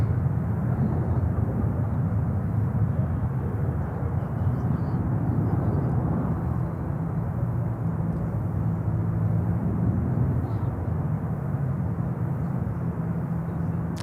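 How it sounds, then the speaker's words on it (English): A Boeing 777 lands at Charlotte airport as a steady, moderately loud distant jet rumble that holds without a break. "777 coming in here on 36 right."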